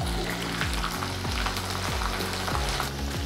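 Soaked dal frying in hot oil as a tempering for ava pindi pulihora, a loud continuous sizzle and crackle with faint regular scraping strokes running through it.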